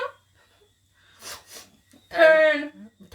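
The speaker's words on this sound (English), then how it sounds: "I was sneezing" A person lets out a quick sneeze with a sharp intake and burst, set among short breathy sounds and a brief voiced exclamation, close to the microphone.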